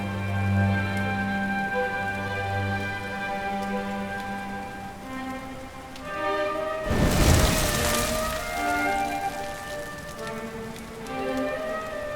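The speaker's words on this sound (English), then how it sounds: "Looks like the rain's dying down." Rain falling in the Dragon Quest XI video game, a steady patter under soft musical tones, swelling into a louder, denser downpour midway before easing again.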